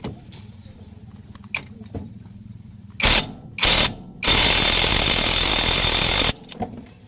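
Pneumatic impact wrench working on the clutch nut of a Honda TMX Supremo motorcycle, firing in three loud bursts, two short rattling blasts followed by a longer sustained hammering run, with quiet workshop background between.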